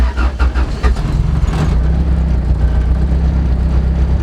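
1992 Honda Accord engine starting up, giving a few quick cranking pulses before settling into a steady, loud, low idle rumble close by.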